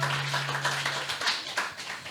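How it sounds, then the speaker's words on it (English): A small audience gives a brief round of clapping at a business talk, a few hands slapping in a loose, uneven patter that tapers off after about two seconds. "Let's get a round of applause for the work my guy's doing in Uganda"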